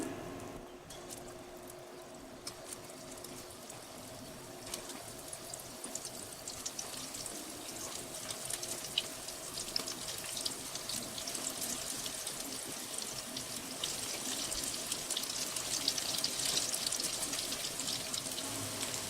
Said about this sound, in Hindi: तो अब हमें इस मिक्सचर में से, ब्रेड के मिक्सचर में से छोटे छोटे से पोर्शन लेके इसे हमें तेल में डालना है